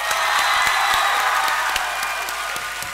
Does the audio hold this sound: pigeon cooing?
no